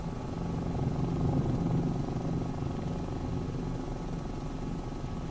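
A helicopter in Microsoft Flight Simulator 2024 flies during sakura season near Mt Fuji. It gives a steady, continuous rotor and engine drone at even loudness throughout, with no talking.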